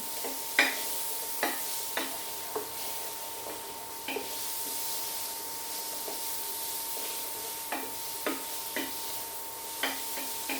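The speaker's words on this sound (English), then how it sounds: "So still gonna toss these vegetables around" Vegetables being tossed in oil in a pot for a beef pot roast, with a soft continuous sizzle and a dozen irregular scraping and clinking stirs, close and moderately quiet.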